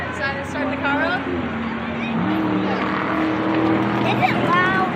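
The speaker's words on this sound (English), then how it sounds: "Start this car up." A car engine runs loud and steady with a rough droning tone, heard close up beneath people talking throughout.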